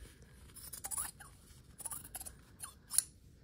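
Scissors trimming fabric and foundation paper for a quilt block, several quiet close snips and blade clicks in an irregular run with a sharper final cut, no talking.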